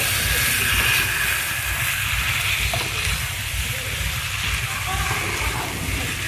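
Chicken sautés with spices in a hot pan, a loud continuous close sizzle and hiss without pause, with faint stirring underneath.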